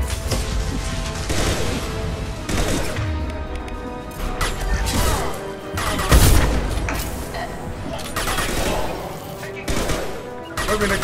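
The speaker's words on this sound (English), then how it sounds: "Taking fire!" Gunfire in the Mass Effect 2 video game, a dense, loud fusillade of rapid shots mixed with crashing impacts and booms, continuous over about eleven seconds with in-game voices underneath.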